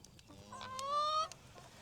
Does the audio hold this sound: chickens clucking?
yes